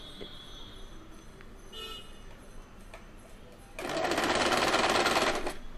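A sewing machine runs a burst of stitching through cotton for a doll's summer dress, starting after quiet handling noises and continuing steadily and loudly for about two seconds before tapering.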